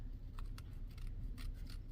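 Quiet snipping of scissors cutting paper, a few short crisp cuts spaced unevenly over a low steady background hum.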